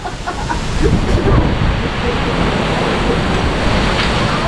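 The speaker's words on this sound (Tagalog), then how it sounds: "Ang lakas ng hangin" Strong wind roars in a broad, steady rush of noise that buffets close by and drowns out other sounds throughout.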